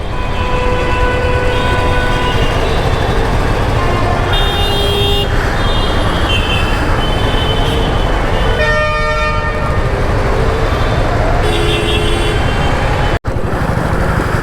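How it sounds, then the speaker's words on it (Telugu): Dense road traffic in Amritsar, Punjab, with a continuous loud engine roar and repeated horn toots and honks, some long and overlapping, close by throughout. "ఇప్పుడు ఈ పంజాబ్ ట్రాఫిక్ ఉంటుంది, అమృత్సర్ ఎస్పెషల్లీ"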